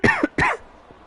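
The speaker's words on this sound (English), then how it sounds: "I did have to get that cough out" Two quick close coughs, one right after the other, from someone commentating an F1 2020 online league race at Monza, followed by quiet.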